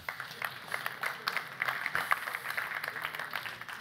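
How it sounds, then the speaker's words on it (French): An audience at a partnership signing event claps for several seconds, a dense, moderately loud patter of many hands. "Sous vos applaudissements, mesdames, messieurs."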